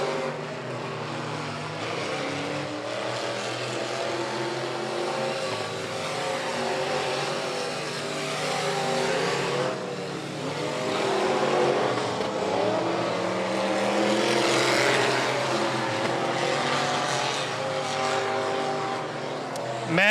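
Stock cars race down the backstretch of an oval at Golden Triangle Raceway Park. A sustained, moderately loud engine roar swells and fades as the cars pass, and no voices can be heard.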